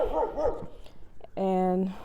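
A dog barks outside, with one sustained bark near the end after speech in the first part of the clip.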